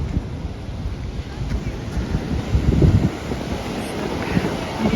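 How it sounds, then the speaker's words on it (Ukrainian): Big sea waves roll and wash onto a beach in Spain under gusty wind buffeting the microphone, a steady rumbling surge with swelling crests, while a voice is faintly present. "Боже, яка хвиля велика зараз."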